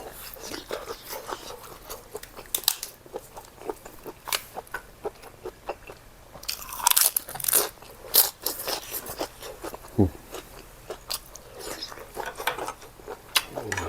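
Crisp, crunchy chewing of squid in a spicy Thai seafood salad close to the mic, irregular bites and crackles repeating throughout with no talking.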